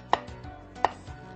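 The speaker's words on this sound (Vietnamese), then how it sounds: "Cà rốt thì chúng ta sẽ tỉa hoa và cắt ra thành những cái hoa nhỏ." A knife cuts carrots into small flower shapes on a cutting board, two sharp distinct chops about seven-tenths of a second apart with a softer knock after, close and clear with no voices.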